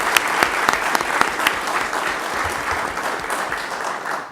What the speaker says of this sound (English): we owe them a very big round of applause